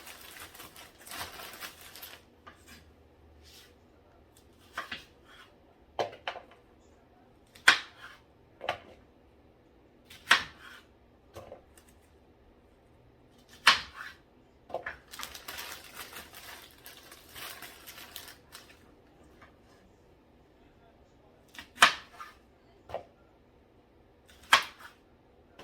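A knife cuts Brussels sprouts in half on a kitchen counter, making quiet, sharp taps at irregular intervals against a near-silent background.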